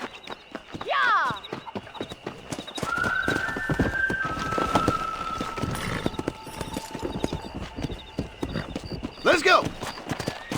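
Horse hooves clip-clop in a rapid galloping rhythm in the video game Red Dead Redemption, with whinnies and neighs at start and end, while voices talk over the ride.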